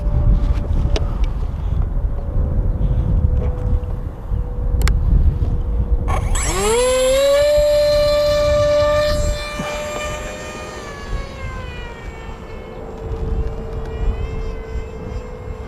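Steady outdoor wind rumble, then a Durafly Tomahawk electric RC flying wing's small motor spools up sharply to a high whine and holds, later easing to a lower drone as the plane flies off.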